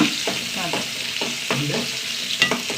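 Shallots and onions frying in a pan with curry leaves, a constant bright sizzle broken by several scraping stirs of a spoon, close and loud, with no talking.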